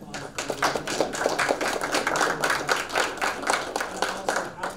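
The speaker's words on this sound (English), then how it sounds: "So I'd like to everyone give Tom a round of applause." People at a school board of education meeting give a round of applause in a room, with close, steady clapping that carries on for several seconds.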